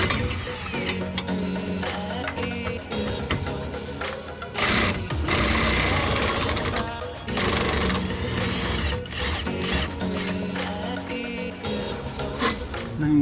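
An 18mm socket on a ratchet or power tool works the strut bolts loose on a Mini Cooper during a coilover install, with rapid mechanical clicking and whirring bursts close up, loud and continuous with brief pauses.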